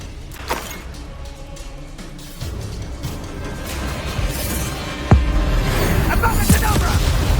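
A Confringo spell bursts in the video game Hogwarts Legacy, one of several booms and crashes amid ongoing combat noise, with a sharp impact near the middle and voices talking over the fighting.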